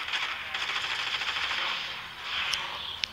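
Gunfire in the video game Gangstar Vegas: a sustained rattling burst of rapid automatic fire that thins out, followed by a couple of sharp metallic clicks near the end.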